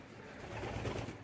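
Pigeons kept in an indoor coop during hot weather give a soft, low cooing murmur, faint and brief, rising slightly toward the middle.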